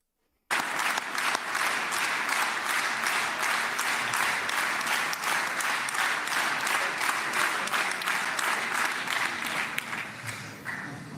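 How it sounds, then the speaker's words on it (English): After a brief silence, a crowd bursts into loud, sustained clapping that falls into a regular unison beat, each synchronized clap sharply spaced for about ten seconds before easing slightly at the end. "make sure you're clapping in unison with the group"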